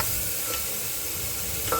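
Onion and peas frying in a pan while being stirred, a continuous close sizzle with occasional scraping clicks from the spoon, loud and steady with no speech.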